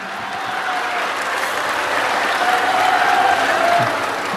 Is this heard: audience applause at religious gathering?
yes